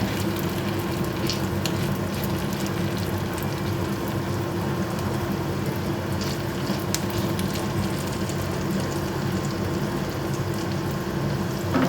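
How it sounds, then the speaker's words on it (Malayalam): Red lentil cutlet mixture frying in hot oil, a constant dense sizzle and crackle with small pops, close and loud with no pauses. "നമ്മുടെ ഈ ചൂടായ എണ്ണയിലോട്ട് നമ്മളിപ്പോൾ റെഡിയാക്കി വെച്ചേക്കുന്ന കൂട്ടിന്ന് കുറേശ്ശെ ഇട്ട് കൊടുക്കേ"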